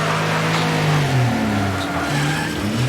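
Stock car engines drone and shift pitch in a race in the video game Wreckfest, a steady loud roar with overlapping revving tones and some tire noise, no talking.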